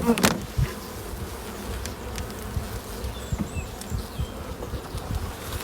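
Honey bees buzz around a hive at close range, a dense humming swarm with a few sharp knocks and bumps near the start.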